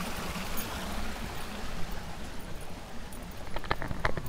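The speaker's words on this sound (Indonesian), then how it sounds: "Air terjun mini. Dia mengalir ke sini." A small waterfall feeds a flowing stream in rural Koto Panjang, Batu Sangkar, West Sumatra, giving a steady, close broadband rush of water with no pauses and a few brighter splashes toward the end.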